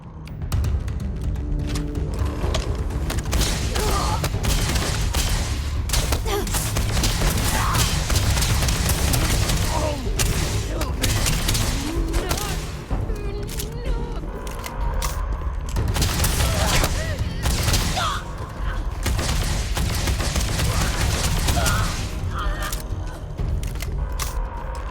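A dense, loud volley of gunfire rattles through a firefight in the video game Starfield, sustained bursts and booms layered with game music and effects, with brief voices mixed in.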